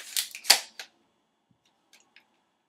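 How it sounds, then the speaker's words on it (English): An airsoft gun fires with a few sharp, close snaps packed into the first second, followed by near silence broken only by faint clicks. "last shot for it."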